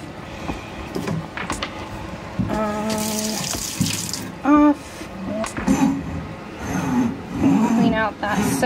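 Water from a touch faucet in a boat galley runs in short bursts, switched on and off several times, with beeps and a person talking between flows.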